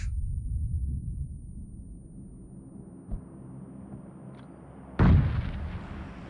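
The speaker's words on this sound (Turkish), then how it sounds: "Lan bomba falan mı atıyor bu? Evet, bomba atıyormuş." A muffled low boom rumbles early and a sharp grenade blast hits loudly near the end, its roar decaying slowly, in the mobile game PUBG Mobile.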